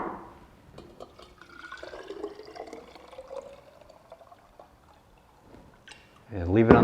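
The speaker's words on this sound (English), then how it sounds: "Refill with water." Water trickles and pours faintly into a jar of fermenting anise soda, filling it with a rising gurgle, ending in a brief louder clatter.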